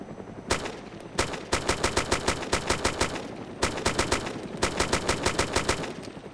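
Video game gunfire in DayZ, several rapid bursts of automatic shots fired in quick rhythmic volleys with short pauses between, loud and close, with no voices over it.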